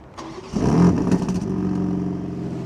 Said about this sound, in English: This does have remote start, being the automatic, so let's take a listen.